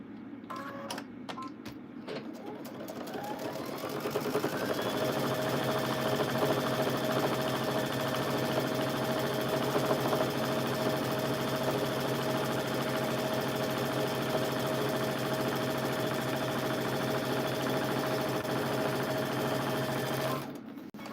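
Steady whirring of a sewing machine stitching pieces of a baby quilt runs almost without a break for about fifteen seconds, close up, after a few brief clicks at the start, with no talk over it.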